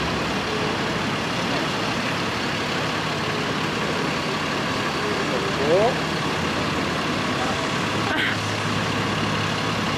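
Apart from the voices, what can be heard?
fire truck passing on a city street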